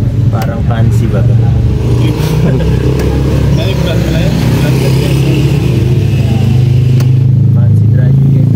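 A motorcycle close by idles and revs with a loud, steady engine drone and clatter, while people talk over it throughout.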